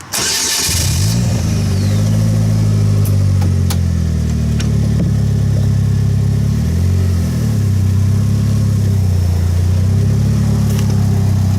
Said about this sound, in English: I guess I'll go put the car away